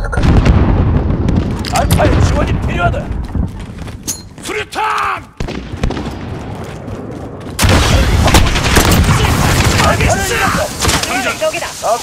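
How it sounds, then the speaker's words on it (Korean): A grenade blast and heavy gunfire rage in Call of Duty: Modern Warfare, loud cracks and booms hitting repeatedly with a sudden louder burst midway, while voices shout over the battle. "수류탄!"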